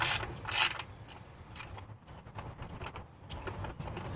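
A ratchet wrench clicks in bursts while backing out a 10 mm bolt on a Chrysler Pacifica during a spark plug change, the rapid metallic ratcheting close and uneven over a few seconds.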